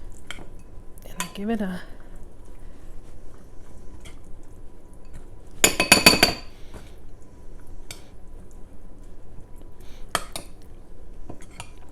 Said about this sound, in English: I'm just going to spoon in some of our mix